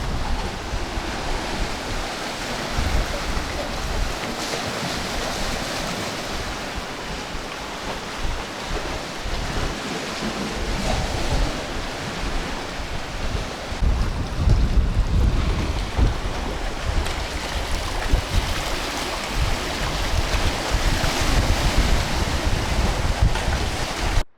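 Strong ocean waves break on a windy Caribbean shore, a steady loud roar of surf with surging swells and wind buffeting the microphone throughout.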